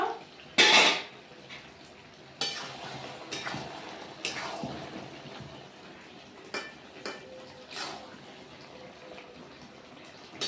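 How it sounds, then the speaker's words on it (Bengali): A metal lid comes off a pot of bottle gourd, lentil dumplings, chana dal and potatoes. A sharp, loud clank sounds near the start, followed by a few softer clinks and faint rattles. "ঢাকাটা খুলে নেব।"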